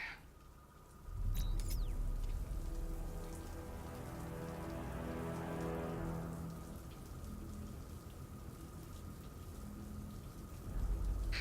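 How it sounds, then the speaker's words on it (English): Steady rain in the video game Batman: Arkham Knight pours down, drumming densely on surfaces, with a low rumble underneath and a brief high chime near the start. "What's with all the rain?"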